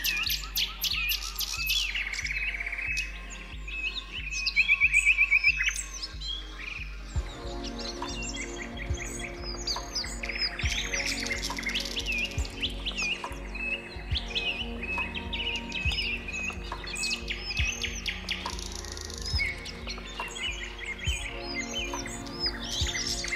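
Birds chirp and trill in a busy outdoor chorus, with a loud burst of rapid calls early on, then steady layered song from several birds over a constant low background hum.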